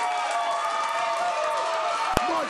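A wrestling crowd roars steadily throughout a tag team match with Capone and Blanchard, the noise holding at a loud, continuous level with one sharp hit near the end.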